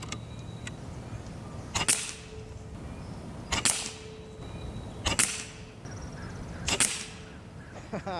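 A Norica Viriatus 2.0 PCP bullpup air rifle firing FX 18.1 grain pellets, four sharp cracking shots spaced about every one and a half seconds, each followed by a brief hiss and a faint impact.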